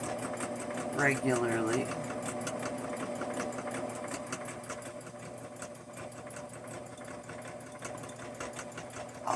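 A sewing machine stitches quilting around the edge of a small mug rug made from an orphan quilt block, running in a steady mechanical whir with short pauses as a person speaks over it.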